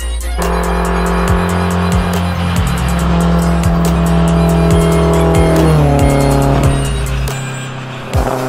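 A classic car on the road during the Tour Auto 2019 rally between Dijon and Lyon, its engine droning loud and close from inside the cabin, revs rising and falling through gear changes, with no talk.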